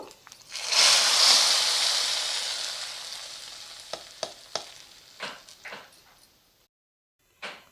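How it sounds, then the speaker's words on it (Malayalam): Mustard seeds and curry leaves hit hot oil for a sambar tempering, bursting into a loud close sizzle that slowly fades, with scattered sharp pops and crackles as the seeds sputter. "നമുക്ക് കടുകും കറിവേപ്പിലയൊക്കെ വറുത്തിടാം"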